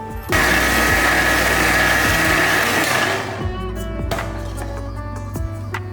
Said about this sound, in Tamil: அதில் கொஞ்சமாக போட்டு இது இன்னும் கொஞ்சம் நல்லா நைஸாக அரைச்சிக்கலாம்